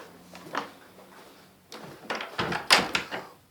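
Insulated entrance door of a house opening and closing, with a soft rattle of the handle and then a cluster of louder thuds and latch clunks nearby, no talk.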